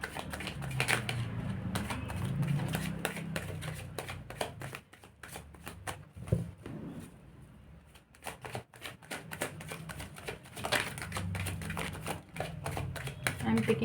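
Tarot cards being shuffled by hand in quick riffling bursts of crisp flutter and snapping, with a short pause in the middle before the shuffling resumes, while a person talks over parts of it.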